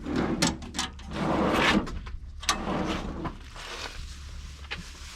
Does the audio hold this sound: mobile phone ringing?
no